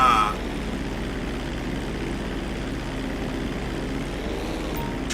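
An airplane in Grand Theft Auto V drones with a steady, loud engine and propeller hum, continuous and unbroken after a brief louder start.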